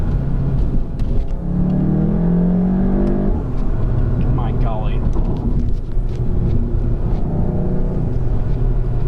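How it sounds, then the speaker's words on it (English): A Volkswagen MK7 GTI turbo engine with an MA Performance intake rumbles and accelerates from inside the car, with whooshing turbo sounds and a person talking over the steady drone. "picks up all the engine's little quirky noises"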